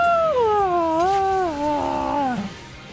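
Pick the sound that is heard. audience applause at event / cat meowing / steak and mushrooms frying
cat meowing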